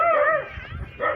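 A dog gives two short, high-pitched yipping barks close by, separated by a brief pause.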